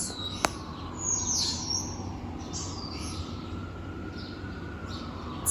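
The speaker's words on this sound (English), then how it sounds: "do you hear the birds?" Outdoors, several birds chirp and tweet in short, bright bursts at a moderate distance over a soft, steady background hum.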